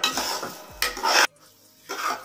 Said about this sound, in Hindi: इस तरह इसको आराम आराम से इसमें चमचा अपने मुसलसल हिलाते रहना ताकि ये नीचे से लगे नहीं।